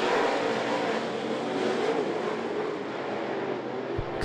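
Steel Head late model race cars roar around I-75 Raceway, a loud, steady blend of several engines held close for a few seconds, with a sharp thump at the very end.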